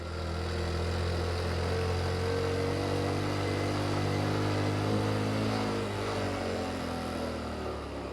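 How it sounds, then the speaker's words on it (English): A motorcycle engine in first gear climbing a steep hill near Chiang Mai drones steadily and loudly close by, holding a low, labouring pitch, with steady wind noise throughout. "Even my motorcycle has some issues, especially with this next one. I'm in first gear."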